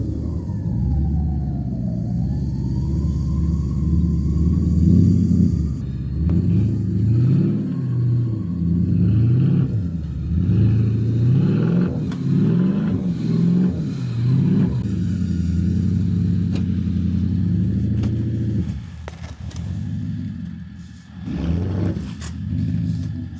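A Porsche Cayenne engine revs hard while stuck in deep mud ruts, a loud, sustained rumble rising and falling in repeated surges, then easing off briefly near the end before one more burst.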